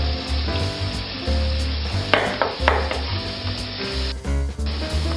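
Crustaceans sizzle and fry loudly in a restaurant pan as brandy goes in to deglaze, with a steady close hiss, a few sharp bursts and some utensil stirring, no voices.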